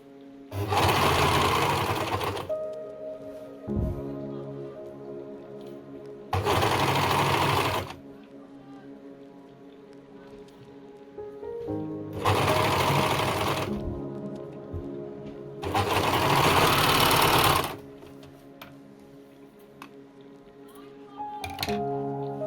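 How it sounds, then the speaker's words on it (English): An overlock sewing machine stitches seams on baby trousers, running in four loud bursts of a couple of seconds each, separated by quieter pauses between runs. "As you can see, I overlock the trousers, the pants, here on this side"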